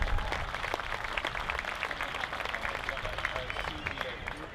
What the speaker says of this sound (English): How about a nice round of applause for the Lau family